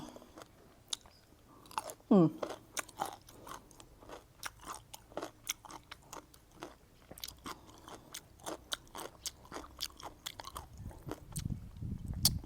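Someone bites and chews crisp pickled mango close up, making a quick series of sharp, crunchy snaps over soft chewing. A short vocal murmur comes early, and the chewing grows wetter at the end.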